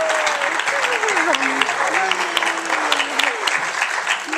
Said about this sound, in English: I think he deserves a round of applause.